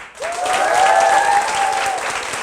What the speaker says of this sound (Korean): 박수로 테스트만 한번 할게요